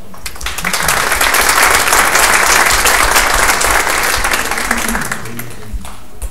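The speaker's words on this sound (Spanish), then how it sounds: "Recibámoslo con un aplauso." Audience applause at a faith-and-city congress welcomes a speaker: sustained, dense clapping from a sizable crowd that swells, holds steady, then tapers near the end.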